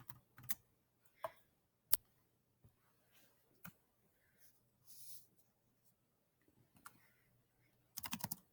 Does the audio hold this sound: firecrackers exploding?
no